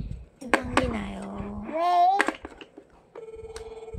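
A toy telephone rings with bright electronic warbling tones and a steady beeping ring, close and clear, while a child and an adult talk around it.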